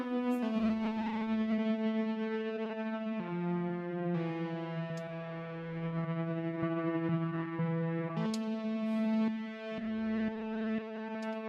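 Sustained tonal instrument notes processed through a Chroma Console multi-effects pedal, holding steady pitches with a few shifts and a distorted, effected character, moderately loud and alone with no talking.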